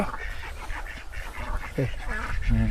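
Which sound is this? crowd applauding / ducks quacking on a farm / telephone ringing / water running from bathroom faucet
ducks quacking on a farm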